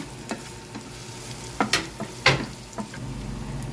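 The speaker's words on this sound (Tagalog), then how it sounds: "Gigisa na natin ang bawang." Garlic sautéing in a pan for chicken biryani, with a low steady sizzle and a few sharp scraping stirs of a utensil against the pan, close by and with no talk.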